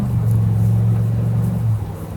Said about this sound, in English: It's got a pretty good exhaust note.